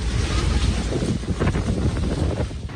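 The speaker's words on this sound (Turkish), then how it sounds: "Şiddetli rüzgarla beraber toz bulutu sokakları da sardı." Strong sandstorm wind in Ankara's Polatlı district roars as a steady, loud, broadband rush with gusting buffets against the microphone, dust-laden and continuous with no talk.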